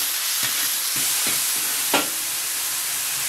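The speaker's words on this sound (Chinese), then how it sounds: "把肉扒了一下" Meat being stir-fried in an oiled pan gives a constant loud sizzle, with a few sharp scraping strokes of the spatula cutting through it. No one speaks.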